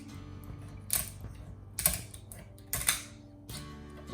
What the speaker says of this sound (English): I'm just going to start cutting along the tail side here